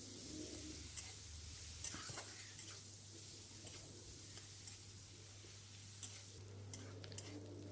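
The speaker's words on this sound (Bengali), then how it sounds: "এরপর ওতে আমি একটা পেঁয়াজ কুচি দিয়ে ভালো করে পেঁয়াজটাকে আমি ভেজে নিচ্ছি" Chopped onion fries in a pan with fennel, cumin and curry leaves, a soft continuous sizzle with occasional stirring scrapes over a low steady hum.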